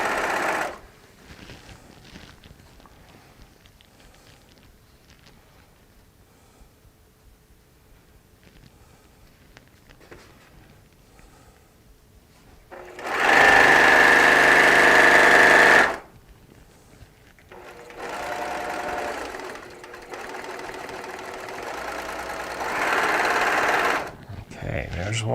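A sewing machine stitches quilt seams made from charm squares and strips, running in loud steady bursts of a few seconds each, separated by quieter stretches where a person talks.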